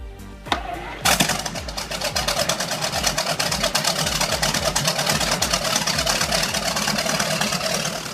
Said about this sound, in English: The Hall Scott 512 Defender is not just another powerful machine, it's a one-of-a-kind auditory experience.